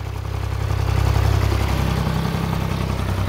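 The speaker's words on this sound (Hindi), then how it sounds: "देखो हल्का हल्का ट्रैक्टर चल रहा है" A tractor engine chugs slowly at low revs, a steady close rumble with even rhythmic pulsing and no voices.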